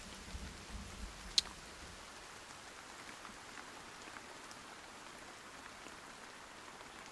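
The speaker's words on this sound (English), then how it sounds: "And of course the rain comes, but they need watering anyway," Rain falls in the Sons Of The Forest video game as a faint, steady patter and hiss, with one sharp tick standing out early and no voices.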